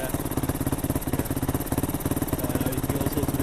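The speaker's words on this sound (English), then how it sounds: "it seems to be idling alright now" A carburetted Yamaha WR450F dirt bike idles close by with a steady, fast, slightly lumpy single-cylinder thump that stays even and unbroken throughout.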